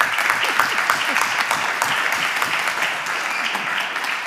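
Sustained audience applause fills a room at an economics conference on geoeconomics, a steady dense patter of many hands clapping for the full stretch without pause.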